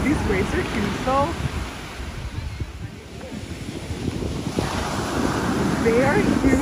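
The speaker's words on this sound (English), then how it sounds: "Oh my god, these waves are huge though." Large ocean waves crash on the shore at Halifax amid strong wind buffeting the microphone, a steady loud roar of surf throughout with brief voices in the background.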